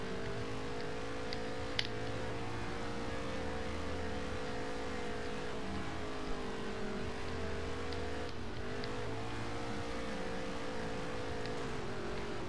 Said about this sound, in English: I ain't driving the car right for some reason.